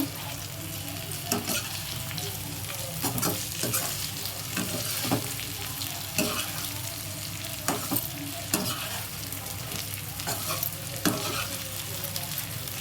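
Sliced okra (bendakaya) frying in a pan, a steady close sizzle broken by frequent sharp scraping clicks as the pieces are stirred, with no voices throughout.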